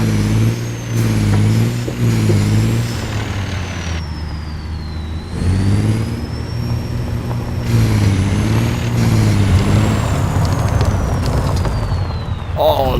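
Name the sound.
truck driving on gravel in American Truck Simulator video game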